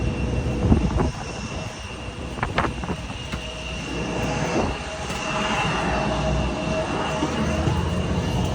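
Steady roar of a Qatar Airways airliner's jet engines from inside the cabin, a continuous broadband hum with a few brief clicks and thumps near the start, with no talk.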